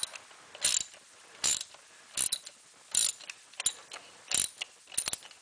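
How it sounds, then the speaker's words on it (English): A ratchet loosens bolts on the fuel rail bracket of a 1993 Dodge Dakota with a 3.9L engine, giving about eight crisp, evenly spaced bursts of clicking, close and fairly quiet, with no talking. "Loosen these 3 bolts up."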